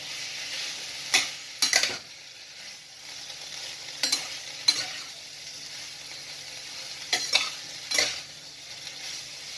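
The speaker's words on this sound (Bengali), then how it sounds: "এটা মাঝে মধ্যে একটু নাড়াচাড়া করতে করতে হয়ে যাবে" A spoon or spatula scrapes and stirs sliced potato and pointed gourd in a frying pan, several short clattering strokes in small clusters over a soft, continuous sizzle, fairly faint and close.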